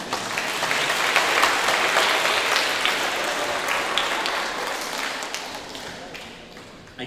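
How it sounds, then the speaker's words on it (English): A middle school Founders Day assembly audience applauds. The dense, sustained clapping of a large room swells early, then gradually tapers off toward the end. "Yes, we can applaud that."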